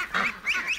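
Ducks in a pen let out a quick burst of three or four harsh, honking quacks, close and loud, with no voices present.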